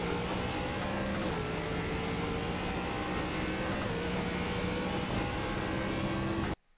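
An ARCA race car in the iRacing video game pulls hard on a Chicago street course, its engine note climbing through the gears in a loud, continuous, close-up drone that cuts off sharply at the end.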